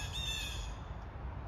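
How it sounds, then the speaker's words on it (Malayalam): Crows caw and squawk close by, a harsh continuous call with other birds around, heard alone without any talk. "കിളികൾ നല്ല സൗണ്ട് ഉണ്ടാക്കുന്നുണ്ട്"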